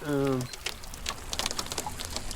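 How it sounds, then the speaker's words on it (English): Big raindrops falling outdoors on a fly fishing outing, a dense steady patter of close drops, opening with a brief tonal voice-like sound. "We got some big drops coming down right now."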